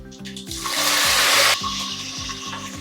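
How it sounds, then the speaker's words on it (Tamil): Curry leaves hit hot oil in a kadai with popping mustard seeds and cumin while an Andhra fish curry is being made. A sharp, hissing sizzle bursts for about a second and then settles, with music playing underneath. "கடுகு சீரகம் பொரிஞ்ச உடனே நாம் ஒரு 2 கொத்து கருவேப்பிலை சேர்த்துக்கலாம்"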